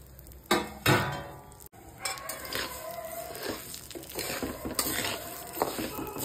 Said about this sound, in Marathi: तूप गरम झालेलं आहे, त्यामध्ये आपण दलिया भाजण्यासाठी टाकू